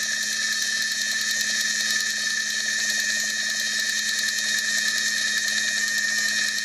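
A Sauter Type SW30 timeswitch's clockwork mechanism runs steadily with a continuous mechanical whir and a fine ticking texture, holding at an even, close-up level throughout.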